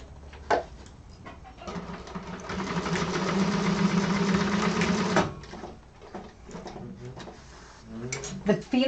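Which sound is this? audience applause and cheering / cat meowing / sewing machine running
sewing machine running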